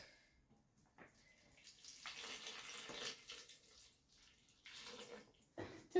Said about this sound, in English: We add milk.